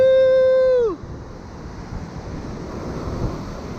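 Big ocean waves surging and washing in a steady broad rush of surf and wind, after a loud whine from a small drone fades away in the first second.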